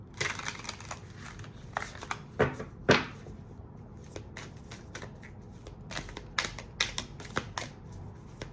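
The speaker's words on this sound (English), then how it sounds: "Let me just give these a good shuffle," Tarot cards are shuffled repeatedly nearby, producing rapid riffling bursts and soft slaps in an irregular rhythm, with no one talking.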